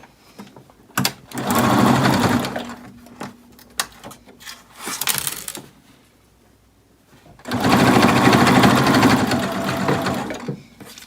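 Sewing machine chain-stitching cloth face masks in short bursts, whirring close and loud with pauses, fabric handling and small clicks between runs, and a longer final stretch of stitching.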